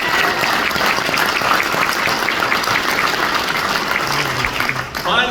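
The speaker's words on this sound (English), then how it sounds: "Let's give a round of applause to Chairman Bill Jones." An audience at a Georgia congressional victory speech breaks into steady, dense applause that fills the whole stretch, fairly loud and close, with a voice briefly emerging at the very end.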